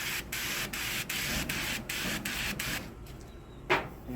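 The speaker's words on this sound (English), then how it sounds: "we're gonna spray down this grill, and it's gonna flare a little bit" Cooking oil sprayed onto a hot charcoal grill before smoking steelhead trout: a series of short, rhythmic hissing bursts from a spray can, close and loud, then a brief quieter pause with a small burst near the end.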